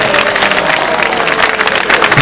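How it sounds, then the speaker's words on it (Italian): A concert band audience applauds an alto sax soloist, dense, steady clapping filling the room at full volume and continuing throughout without any letup. "Vi inviterei ad alzarsi per prendersi l'applauso."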